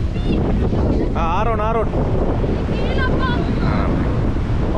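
Strong wind buffets the microphone and surf rolls in at the main beach at Pasikuda, a loud continuous roar, while a child calls out and other voices speak over it.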